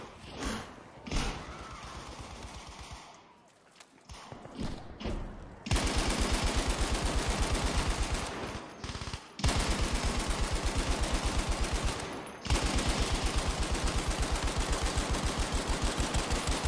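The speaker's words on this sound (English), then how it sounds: "So I provide some cover fire, much needed, for my team." Sustained machine-gun cover fire in Battlefield V, long loud bursts of rapid automatic shots near the listener, separated by short gaps and scattered thumps, with no talk over it.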